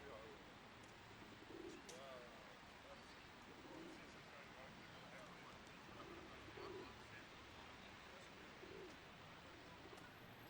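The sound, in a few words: pigeons cooing in London's West End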